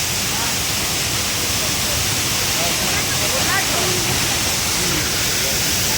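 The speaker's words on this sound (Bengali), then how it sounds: "ওই যে দূর দূর থেকে ঝর্ণা নামছে, ওয়াটারফলসটা নামছে এখান থেকে, এখানে জলটা এসে পড়ছে।" A waterfall in Purulia pours down from a height into a pool, making a steady, loud broadband rush that holds unbroken throughout, with faint voices mixed in.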